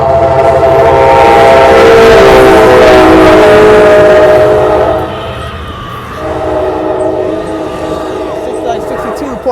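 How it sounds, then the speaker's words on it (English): An Amtrak Capital Corridor train led by an F59PHI locomotive passes on Alvarado Street in San Leandro, California, loud and close with a strong engine drone and horn tones that fade after about five seconds into quieter rolling rail noise. "There go that train, folks."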